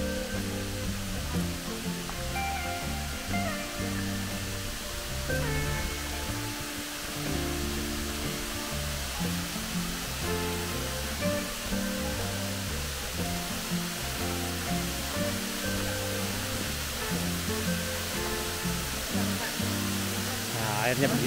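Broad, constant rushing roar of the Proklamator waterfall in Lembah Anai, West Sumatra, filling the whole clip, steady and enveloping with no pauses.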